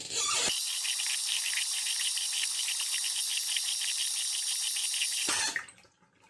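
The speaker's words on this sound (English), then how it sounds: "Now I'm going to get my face wet." Water from a sink tap runs steadily and hisses as someone wets their face before a shave, a continuous close rush lasting several seconds before it abruptly stops.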